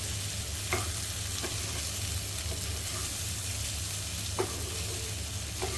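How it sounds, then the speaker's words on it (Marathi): A spoon stirring diced yam vegetable in its sizzling tempering in a pan, with a steady fry hiss and a few soft scrape and tap accents against the pan. "चांगली मिक्स करून घ्यायची"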